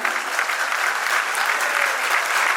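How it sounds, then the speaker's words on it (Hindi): Devotees at a Shyam devotional kirtan applaud together in a steady, even wash of clapping from a crowd that carries on without pause. "जरा जोरदार होनी चाहिए प्रेमियों की तालियां"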